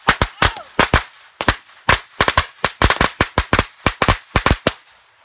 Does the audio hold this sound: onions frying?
no